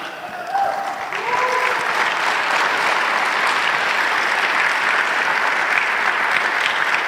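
A church congregation breaks into applause, dense steady clapping that swells after a short start and holds throughout with no speech.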